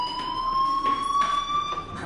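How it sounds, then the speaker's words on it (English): A fire alarm rings in Life is Strange, a steady electronic tone with high harmonics sounding continuously and fairly loud, with faint background bursts but no talk. "do you hear that fire alarm?"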